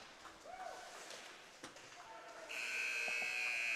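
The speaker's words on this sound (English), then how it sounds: "as we hear that final buzzer go" A loud, steady electronic final buzzer drones on in a busy ice hockey arena at the end of a college game, with crowd noise and scattered thuds underneath.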